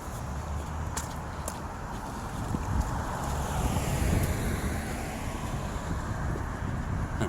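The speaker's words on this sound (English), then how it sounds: "the wind is picking up just a little bit here" Wind blowing outdoors during a walk through a city neighborhood on a cool early-spring day, a broad steady rush with microphone buffeting and a faint hum of distant traffic, no talk.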